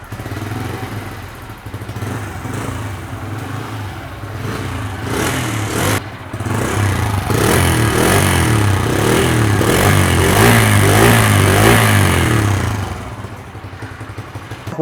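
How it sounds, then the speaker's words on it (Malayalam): A new Bajaj Freedom 125 CNG motorcycle engine cranks, catches and settles into a loud, close, steady idle with a brief throttle rise, then fades near the end. "ഇതിൻ്റെ സൗണ്ട് തന്നെ വെറൈറ്റി സൗണ്ടാണ്. പുതിയ എൻജിൻ തന്നെയാണ്. സ്റ്റാർട്ടായി കാണിച്ചു തരാം"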